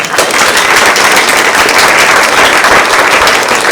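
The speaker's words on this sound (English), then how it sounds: "Let's give them a round of applause." Loud, dense applause from an academic symposium audience, with rapid overlapping claps sustained evenly throughout.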